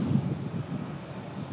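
A TUI Boeing 737 arriving from Corfu lands at Manchester Airport, heard as a steady, distant roar of jet engines with low rumble and some wind noise throughout.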